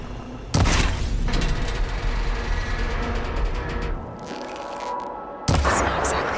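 Shooting at the coupling on a machine's arm in Horizon Forbidden West, with a heavy boom and crackling impacts followed by rumbling mechanical noise, then a second loud burst near the end.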